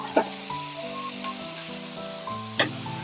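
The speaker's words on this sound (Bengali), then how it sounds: "চিকেন গুলো দিয়ে আমি একটু ভালো করে ভাজবো।" Chicken pieces frying in a pan for Korean-style chicken, a soft steady sizzle with a couple of brief clinks of utensils, heard alone.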